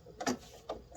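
Embroidery machine stitching the tack-down line of an applique on a hand sanitizer design, heard as quiet mechanical whirring with two short, louder bursts of needle and motor activity.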